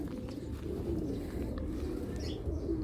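A pigeon coos in low, soft, repeated calls, close by, over a dense murmur of other birds in a loft.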